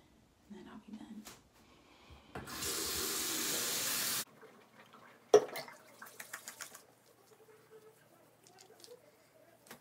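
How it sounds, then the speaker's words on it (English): Water splashing at a bathroom sink while a face is washed, with a steady rush of running tap water for a couple of seconds, then scattered close splashes and drips, fairly quiet. "So I'm gonna wash my face again, and then I'll be done."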